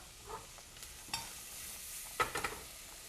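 Shallots and squash sauté in a stock pot with pancetta, a soft steady sizzle broken by a few scraping stirs, quiet and close.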